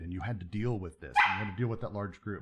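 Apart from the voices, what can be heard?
dog barking to be let out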